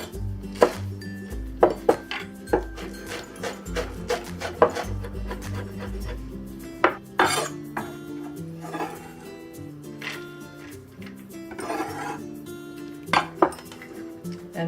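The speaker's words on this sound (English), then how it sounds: "Next we'll mince the green onion." A knife chops green onion on a cutting board with a quick series of close knocks, mixed with occasional clinks of dishes and utensils in a kitchen.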